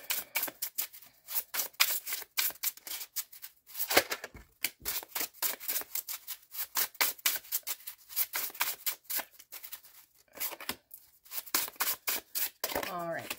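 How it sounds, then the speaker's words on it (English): Tarot cards shuffled by hand in quick, crisp bursts of riffling and flicking, close and loud, with short pauses between runs of shuffling. "I'm shuffling for a bit until I get into the zone."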